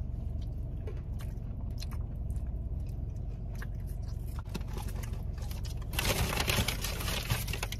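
Someone eating a Taco Bell chicken wing close up: soft wet biting and chewing against a low rumbling background, with a brighter crunchy burst near the end.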